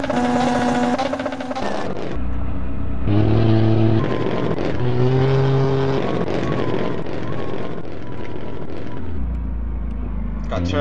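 An HSR R5 rally car revs hard in a driving video game, its engine note climbing and dropping through gear changes, loud and continuous with brief lower idle-like stretches near the start and end.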